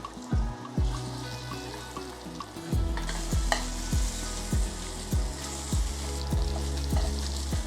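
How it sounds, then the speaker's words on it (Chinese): A thick pork chop sears in hot oil in a pan, a steady close sizzle punctuated by regular sharp ticks and clacks at a steady beat, with no talking. "两面煎上色，4边封上壳。"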